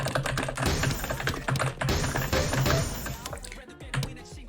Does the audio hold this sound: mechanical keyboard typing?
yes